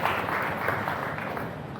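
An audience at a tech event in Cyberjaya applauds, a dense steady wash of many hands clapping throughout the short span, fairly distant and even.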